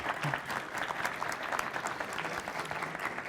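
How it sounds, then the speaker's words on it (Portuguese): An audience at a corporate communications event applauds a guest being introduced, steady moderate clapping from a room of people, evenly sustained with faint voices beneath. "Palmas para o Júlio, gente."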